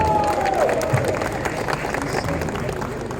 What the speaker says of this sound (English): All the girls, a round of applause for the bride.